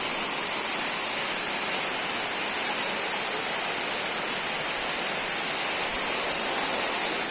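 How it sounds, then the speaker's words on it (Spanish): Torrential rain pours down in the jungle onto a thatched straw hut, a dense, constant, loud hiss of heavy rainfall that never lets up. "gran torrencial de lluvia, señores selváticos."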